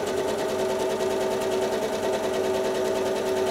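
A sewing machine stitching free motion quilting runs at a steady fast pace, its even mechanical whir and needle chatter close and continuous, with no voices.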